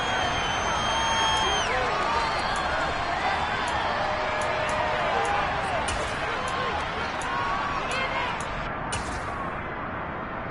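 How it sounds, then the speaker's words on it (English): A dense, steady roar of shouting from a large crowd fills a football stadium during a Seahawks vs Saints game as fans watch a replay. The noise is continuous, with whistles and yells rising from it. "Plenty of shouts from this crowd as they watch the replay."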